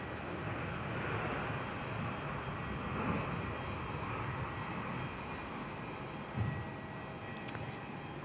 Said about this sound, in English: Qantas 646 is also taxiing out now with the 737.